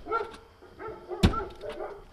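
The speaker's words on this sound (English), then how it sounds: "The only thing that greeted us were two large dogs." Two large dogs at a house greet visitors at the door with a few barks and one sharp loud bark, heard from fairly close outdoors with no speech.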